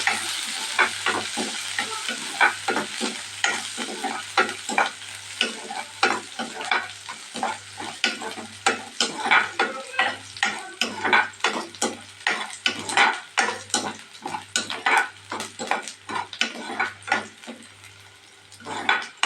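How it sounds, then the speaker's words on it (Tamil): Curry leaves frying in hot oil in a pan for Tamil-style fish kulambu, a continuous sizzle under repeated scraping strokes of a ladle stirring, close and fairly loud, no talking. "ஒரு கொத்து கருவேப்பிலை சேர்த்துக்கணுங்க நல்லா மிக்ஸ் பண்ணிவிட்டு"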